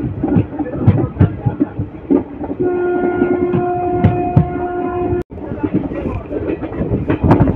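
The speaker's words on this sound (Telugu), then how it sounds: "హుబ్లీ నుంచి నర్సాపూర్కి వెళ్ళే అమరావతి ఎక్స్ప్రెస్." The Amaravati Express, travelling from Hubballi to Narsapur, rumbles and clatters along the rails. A sustained horn chord sounds in the middle, and a voice talks intermittently over the train noise.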